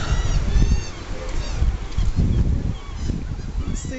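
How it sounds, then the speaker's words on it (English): Seagulls call near the Trump Taj Mahal on the Atlantic City boardwalk, with repeated high, wavering cries over a busy low rumble of crowd and outdoor noise. "Seagulls."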